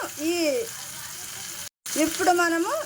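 A tempering with gongura leaves sizzles steadily in hot oil with a constant hiss while someone speaks over it, briefly interrupted by a short silence.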